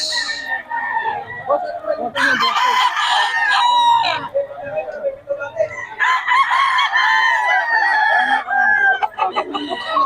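Sweater Kelso gamefowl roosters crow repeatedly and loudly at a Bocaue market, several drawn-out calls overlapping with clucks, while people talk nearby.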